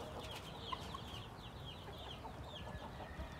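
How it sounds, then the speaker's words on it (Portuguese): Índio gigante rooster clucking on a Brazilian farm, faint and somewhat distant, with a few short clucks over a low background of other birds chirping. "esse galo aí é bom, mas o problema dele é que vai bater nos frangos"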